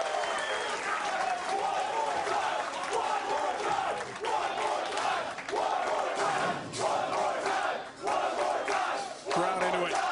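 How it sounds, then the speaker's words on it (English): A crowd at a PBA Tour Finals bowling competition in Bethlehem cheers and shouts in loud bursts with applause, swelling and dipping repeatedly, with voices in the crowd mixed throughout. "Crowd into it"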